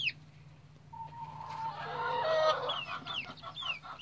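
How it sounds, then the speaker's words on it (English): Baby pullet chicks, including a barred rock, peep softly nearby, with short high chirps and trills over a low background hum. "These are the new chicklets."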